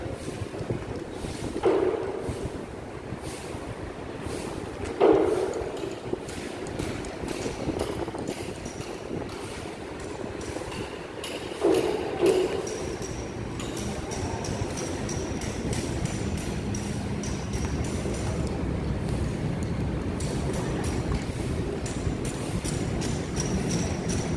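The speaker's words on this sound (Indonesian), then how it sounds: "sejuk guys anginnya silir dari kanan kiri masuk tengah" A cool breeze sweeps through Taman Kolong Ram Barat park, flowing in from both sides. It makes a steady, broadband windy rumble with a few soft gusty bumps early on and no talking.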